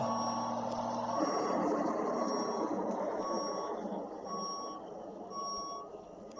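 Steady reversing beeps repeat at an even pace over a constant vehicle engine hum as a car is put in reverse and given throttle, close and continuous with no talk.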